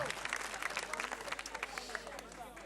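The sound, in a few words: children applauding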